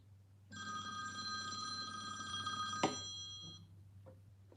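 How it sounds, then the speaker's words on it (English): A telephone ringtone chimes for about three seconds with bright sustained tones, fairly loud and clear indoors, then cuts off abruptly with a click as it is answered. "I got my wife calling"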